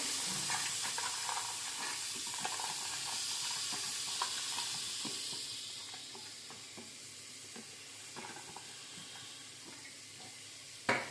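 Soaked chickpeas fry with spices in hot oil, giving a continuous close sizzle with scraping stirs and clinks from a spoon in the pan, and no voices.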